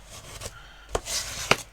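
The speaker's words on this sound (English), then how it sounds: "So now I can give everything a really good burnish now that it's flat." A paper pop-out floral thank-you card being burnished flat, giving quiet soft rubbing strokes with a few sharper scrapes and taps, close and faint.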